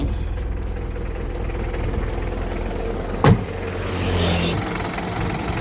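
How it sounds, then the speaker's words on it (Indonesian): A 2004 Mitsubishi Strada L200 4x4 double-cab diesel idles steadily with the hood open, a low even rumble heard up close, interrupted by one sharp knock and a brief rise in engine hum. "Sekarang waktunya mereview suara mesinnya."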